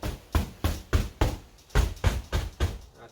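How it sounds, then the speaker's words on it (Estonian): Brush knocking snow off a PVC awning or hall roof in winter, about eight dull, evenly spaced thuds repeating roughly every third of a second, close and fairly loud with no talk. "sellega natuke koputate ja lumi üldiselt tuleb ise maha"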